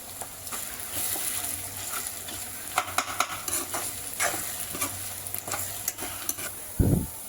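Garlic paste fries in a pan, giving a steady sizzle under scraping and stirring of a utensil, with occasional sharper clicks against the pan and a louder clatter near the end.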